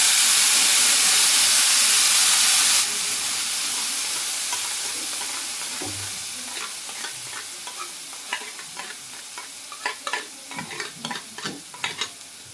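Paneer gravy for a Hyderabadi dhaba-style dish hits the hot pan with a loud burst of hiss that settles into a softer simmering sizzle on low flame, followed by a run of quick, close stirring scrapes.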